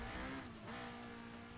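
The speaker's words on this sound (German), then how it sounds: "natürlich kommt dahinter auch noch ein Wagen um die Ecke" A car in the Need for Speed Most Wanted racing game rounds a corner nearby, its steady engine drone bending in pitch as it passes, loud and continuous throughout with no talking.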